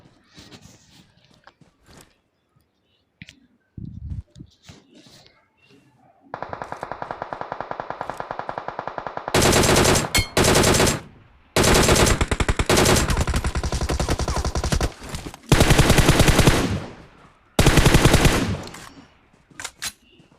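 Gunfire in a video game battle: scattered shots at first, then loud, sustained machine-gun bursts of several seconds each, separated by short pauses.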